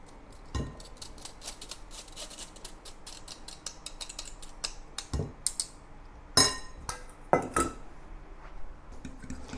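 Eggs being mixed with green beans, preserved radish, salt and pepper in a bowl, with scattered clinks and taps of a utensil against the dish, a few sharper knocks standing out in an irregular rhythm.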